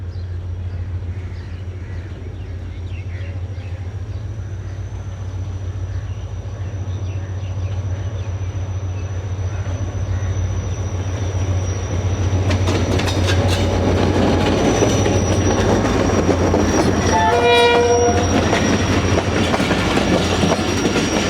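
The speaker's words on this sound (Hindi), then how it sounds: "तो ये आ रही है जी 34 down park business express, Lahore Karachi के दरमियान चलने वाली" A Pakistani diesel express running between Lahore and Karachi, led by an HGM 38-220 locomotive, rolls through a small halt station. It makes a loud steady roar with rhythmic wheel clatter and a brief rising horn or squeal near the end.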